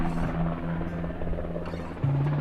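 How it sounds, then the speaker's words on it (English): A steady, droning helicopter hum with a low whir as it hovers over Achill Island, Ireland, holding constant throughout, a continuous engine buzz layered over wind-like rumble. "Second time we've seen this helicopter today."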